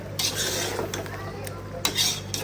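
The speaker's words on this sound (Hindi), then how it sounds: "अब इसको कर लेंगे मिक्स।" Masala and mashed eggplant being mixed in a pan produce close, repeated spoon scrapes and metallic clinks against the pan over a faint sizzle, with no voices.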